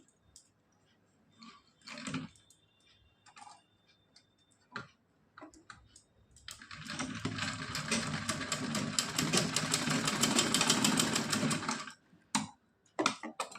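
An electric sewing machine stitches pleats into net fabric for a dress with lace trim, running in a fast, steady, rattling burst for about five seconds. Scattered clicks and fabric handling come before and after.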